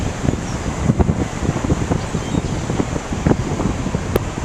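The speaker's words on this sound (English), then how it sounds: "It's very windy the other way" Steady seaside wind buffets the microphone in broad, rough gusts, with a low rumbling roar underneath and no voices.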